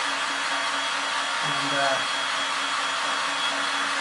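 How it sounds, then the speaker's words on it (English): A heat gun blows steadily like a hair dryer to dry a freshly cleaned baseball cap, a broadband rushing hiss with a faint motor hum running throughout, and a brief word spoken partway through. "I've got a heat gun here. It'll just act like a blow dryer"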